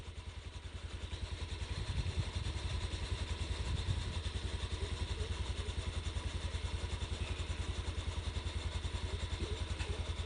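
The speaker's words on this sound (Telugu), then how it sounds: "బైక్ పోతుంది ఒకటి యాక్టివ్" Honda Activa scooter passing along a rural tar road, its small engine a steady mid-distance putter that swells slightly then holds through the clip, with no one talking.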